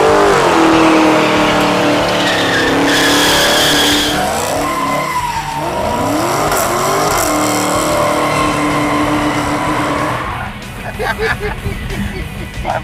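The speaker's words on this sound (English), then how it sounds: "someone's been doing burnouts in your parking lot" A 1968 Dodge Charger fitted with a 707-horsepower Hellcat engine roars through a long tire-squealing burnout, a loud continuous engine howl with wavering screech that drops off near the end as the revs fall away.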